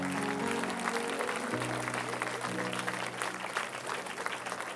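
A church congregation claps steadily and densely throughout, under a sustained hum of music or voices, with no clear break in the applause.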